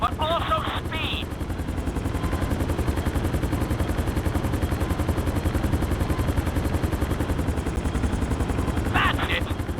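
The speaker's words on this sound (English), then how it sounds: "we'll see how well you handle the chopper" A helicopter in Grand Theft Auto V flies with a steady, loud, rapid rotor chop through the whole stretch, while brief radio-style voice bursts cut in at the start and end.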